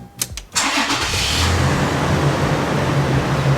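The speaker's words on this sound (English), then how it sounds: "Step 4, start vehicle for 15 seconds." A fifth-generation Toyota 4Runner engine cranking briefly with a few quick starter whirs, catching with a loud surge, then settling into a steady, close idle with a low droning hum.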